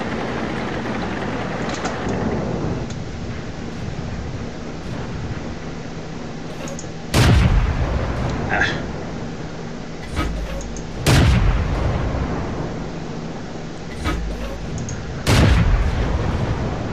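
Tank cannon shots boom in World of Tanks, three sharp, loud blasts spaced about four seconds apart over a rumbling engine drone, each followed by a short echoing tail.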